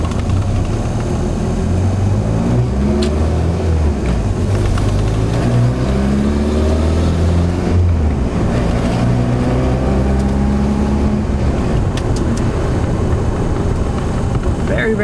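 A car engine driven through gears with a short shifter, revving up and dropping repeatedly in a steady cycle of climbing pitches, loud and continuous with road and wind noise, while someone talks over it.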